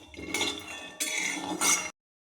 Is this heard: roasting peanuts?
yes